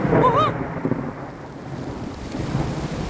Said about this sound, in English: That's hail. That's hail.